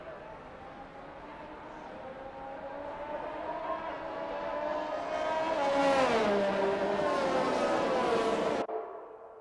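Sim race cars pull away from the grid onto the formation lap at Austria, their engines rising in pitch as they accelerate, swelling to a loud peak as they pass close by, then cutting off abruptly.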